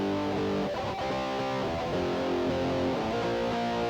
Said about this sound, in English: That's that overdriven kind of distortion sound that we associate with rock and roll.